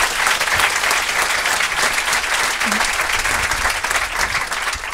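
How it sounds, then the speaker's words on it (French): A live podcast audience with comedians on stage breaks into loud, sustained applause, dense clapping that holds steady throughout and eases a little near the end. "Nora, on l'applaudit,"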